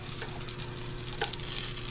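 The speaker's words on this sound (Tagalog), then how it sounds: "nagpiprito po ng talong saka po lagang okra" Steady oil sizzle from eggplant frying in a pan, with a few clinks and stirring sounds close by.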